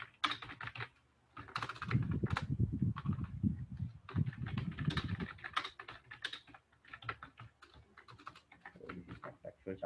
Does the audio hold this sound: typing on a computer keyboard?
yes